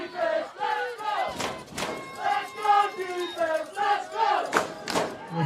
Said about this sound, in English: You can hear the West folks right in front of me cheering on their defense.